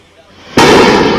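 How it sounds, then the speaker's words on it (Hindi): A single sharp, loud blast of an explosion from shelling along a conflict line bursts in after quiet background and rumbles on. "धमाकों की आवाजें,"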